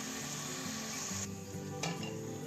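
Sliced onions fry in a pan for a mutton and vegetable biryani, giving a steady close sizzle with light stirring scrapes throughout, no voices.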